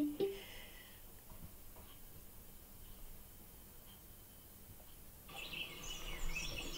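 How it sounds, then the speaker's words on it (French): Birds sing outdoors, with faint scattered chirps over a soft hiss that grow brighter and busier toward the end, distant rather than close. "Ça, on entend des oiseaux."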